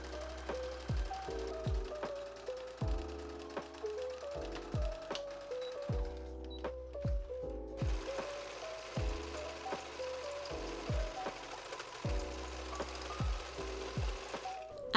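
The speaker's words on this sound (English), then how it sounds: "we're just going to carefully sew all the way across that edge" A sewing machine stitches along the edge of a lace wedding dress, running in repeated short bursts with rhythmic mechanical clatter and brief pauses between runs, close and steady with no talking.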